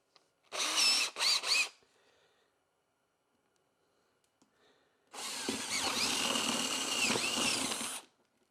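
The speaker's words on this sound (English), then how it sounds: "the drill we're going to use is an 11/16." A power drill with an 11/16 bit bores into a beehive, first in a short stuttering burst of whirring, then after a quiet pause in a steady, louder grinding run of about three seconds, close by.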